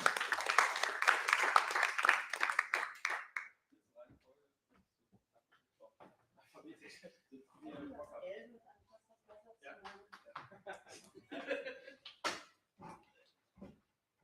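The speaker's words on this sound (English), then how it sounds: "Please welcome them with a warm applause." Brief audience applause welcoming guests onto the stage at a fireside chat on crowdfunding: a short burst of clapping for about three seconds, then quiet with people speaking faintly and some handling noise.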